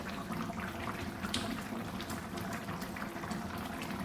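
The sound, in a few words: chicken curry gravy simmering in a pot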